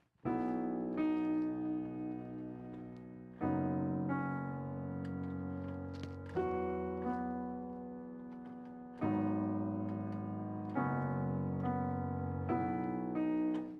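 Plain keyboard chords played one after another, each held and slowly decaying before the next, dry and fairly quiet with no talking.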